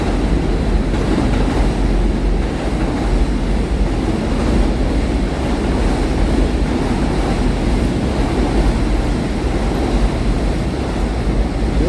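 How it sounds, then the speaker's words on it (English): An elevated train rumbles along overhead tracks above a New York City sidewalk, a steady, loud low roar that continues throughout, with no voices. "And looking at the trains passing above up there."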